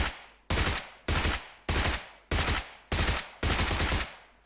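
Repeated gunfire in the battle game PUBG: seven loud, sharp bursts at roughly half-second intervals, each with a brief decaying tail, heard alone without talk.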